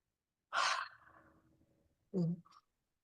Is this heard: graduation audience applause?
no